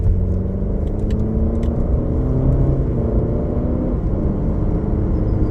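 An Alfa Romeo Giulia pushes hard around Blackhawk Farms Raceway in the rain, its engine droning and climbing through gears with short shifts, a steady rumble of road and tyre noise underneath, no one speaking.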